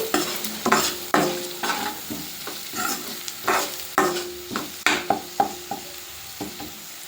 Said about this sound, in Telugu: ఇందులో హాఫ్ టీ స్పూన్ పసుపు వేసి బాగా కలుపుకోవాలి